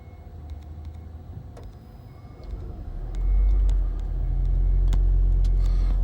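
A vehicle engine in Wheelie Life idles with a low rumble, then the throttle is fed in and it swells into a loud, sustained roar for the second half, with scattered small clicks and knocks on top.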